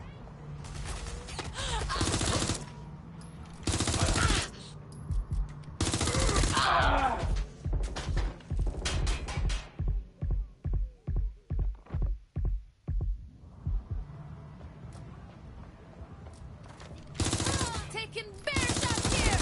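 Heavy gunfire from a PS4 video game: loud dense automatic bursts, then a steady run of single evenly spaced shots, then more sustained bursts, all close and prominent.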